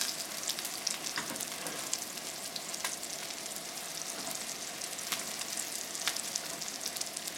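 Seared ahi tuna being stirred in a hot pan gives a steady, close sizzle and crackle, with scattered light scrapes and taps of the utensil throughout and no talking.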